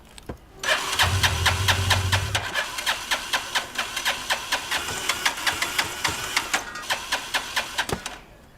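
A motorcycle engine starts with a brief low grind, then runs in a rapid, evenly pulsing putter that stays near and moderately loud before cutting off abruptly.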